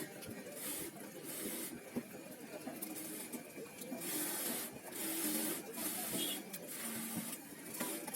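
A sewing machine runs short basting stitches along the side seam of a panjabi, a steady fast mechanical whir with slight pauses, fairly quiet and close.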